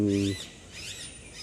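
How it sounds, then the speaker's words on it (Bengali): High, thin bird chirps repeat a few times at a moderate distance in a garden near Siliguri, after a short low hum cuts off. "কত সুন্দর পাখির ডাক"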